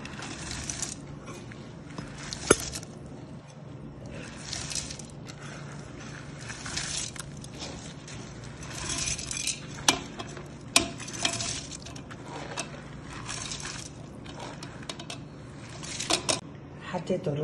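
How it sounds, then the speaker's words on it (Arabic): Rice is stirred with spices in a pot for a meat mandi cooked in an electric barrel, making repeated scraping and shuffling bursts in an uneven rhythm, close by, under faint background hiss and a few sharp clinks. "حطيت الرز على بركة الله، هقلب البهار فيه"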